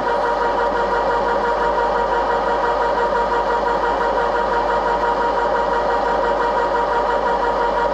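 A Pratt & Whitney lathe runs in low range at 85 RPM, giving a steady, even mechanical hum with a faint rhythmic vibration that holds unchanged throughout, with no talking.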